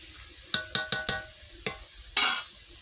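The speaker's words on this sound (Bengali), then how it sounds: "লাল লাল করে ভেজে নিয়ে বন্ধুরা ভাজছি দেখো" Oil sizzles in a pan as catla fish fries, a spatula clanking and scraping several times, followed by a brief louder burst of hissing.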